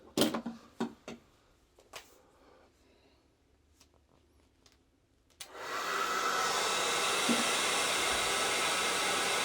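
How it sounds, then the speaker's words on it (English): A few scattered clicks and knocks, then a hairdryer powered by a Jackery 2000 Pro power station switches on and blows with a steady, loud rushing whir to the end. "a hairdryer, but let's give it a go"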